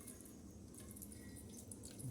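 Water pours steadily from a tap or container to wash bougainvillea roots, a continuous splashing, trickling wash at close range with no talk.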